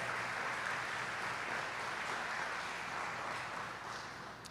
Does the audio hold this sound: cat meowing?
no